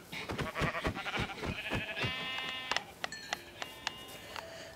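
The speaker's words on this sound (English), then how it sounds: "I found another sheep, and then this is my last one." In Minecraft, a blocky sheep bleats several times in quick succession, followed by short clicks and game blips, fairly close and clear with no talking.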